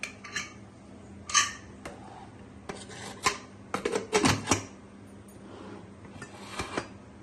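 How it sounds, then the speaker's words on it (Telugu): A pressure cooker lid is closed over country chicken curry and the whistle set on top, with scattered metallic clanks, scrapes and clicks of varying loudness and short pauses between. "కుక్కర్ మూత పెట్టేసి విజిల్ పెట్టాను"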